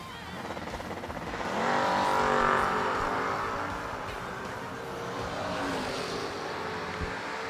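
A 1989 Chevrolet Camaro drag racing at World Wide Technology Raceway, its loud engine roaring steadily as it launches and pulls down the strip, swelling around two seconds and holding strong, with no talk over it.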